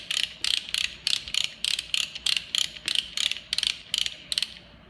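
An antler bander being cranked gives a close, crisp ratcheting click in about fourteen evenly spaced bursts, a steady mechanical rhythm in a quiet setting with no talking.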